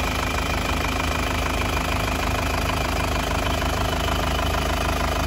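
A 2014 GrandTouring with a dry engine idles in a steady, even rumble with a faint ticking texture, close and constant with no talking.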